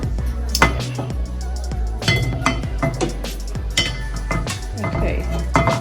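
Liquid lumpia batter being stirred in a bowl, with a utensil clinking and knocking against the bowl in irregular close bursts while a person speaks alongside.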